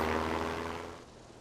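Propeller fighter plane engines from the Sid Meier's Ace Patrol video game hold a steady droning hum that fades somewhat toward the end, heard alone with no talk.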